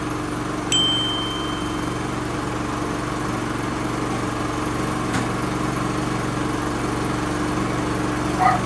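A Philking PK4200 inverter generator runs with a steady, even engine hum, holding constant throughout with a brief click near the start.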